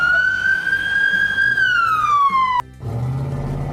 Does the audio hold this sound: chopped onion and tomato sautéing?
no